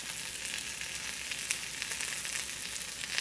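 Tuna belly sears in a hot pan with a steady, even, close sizzle of frying, alone and continuous throughout.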